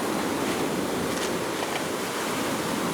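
Sea waves washing up on the shingle beach at Birdlings Flat, New Zealand, near high tide, heard as a continuous soft hiss of surf with faint wind, fairly quiet and steady with no one talking.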